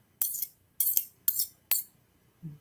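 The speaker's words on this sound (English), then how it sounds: "let's whisk it up" Four sharp metallic clinks of a fork striking a bowl while stirring vegan ranch dip, evenly spaced and close, each ringing briefly before fading, then a softer final tap.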